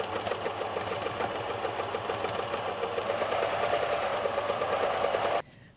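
A sewing machine stitches at a steady, rapid mechanical rhythm for several seconds, close and clear, then stops abruptly.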